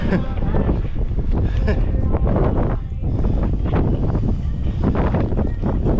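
Strong wind buffets an outdoor microphone on a May roadside stop in Crimea, a loud, continuous roar with gusting surges that swamps the scene, while people talk faintly underneath.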